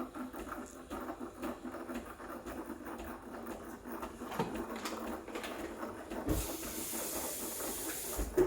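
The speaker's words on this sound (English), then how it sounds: "Once you can't touch the milk with your hand, that's when you stop the steamer." The steam wand of a Breville Barista Express BES860 espresso machine hisses steadily while frothing milk, a close continuous rushing sound that grows brighter and louder near the end.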